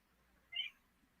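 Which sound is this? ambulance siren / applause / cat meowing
cat meowing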